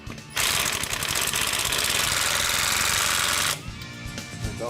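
An impact wrench drives a lug nut onto the wheel of a 1970 A12 Super Bee 440 Six Pack, a loud, steady rapid hammering burst of about three seconds that cuts off abruptly, leaving quieter shop noise.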